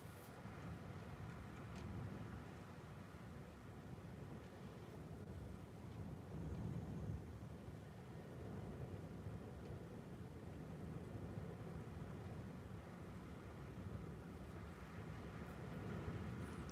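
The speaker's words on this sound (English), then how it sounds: "That wind's wild, innit?" Strong wind buffets the microphone at a seaside promenade, a steady low roar and rumble lasting throughout with no one speaking.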